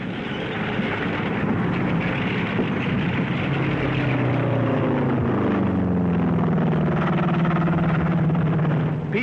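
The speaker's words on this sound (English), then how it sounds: "P-38s move ahead of the advancing forces." A P-38 fighter aircraft drones past in wartime North Africa, a loud steady engine roar with a pitch that slides lower as it passes, on an old newsreel soundtrack.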